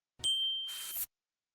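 A single bright notification bell ding rings out, sustaining briefly before a short whooshing shimmer, then silence.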